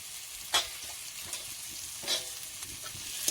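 Pork with masala frying in a pan, a quiet steady sizzle with two sharper bursts of stirring scrapes spaced apart, close up and alone without speech.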